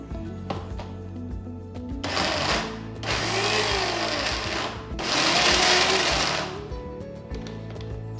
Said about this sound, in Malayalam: ചെറുതായിട്ടൊന്ന് പൾസ് ചെയ്തെടുത്തു.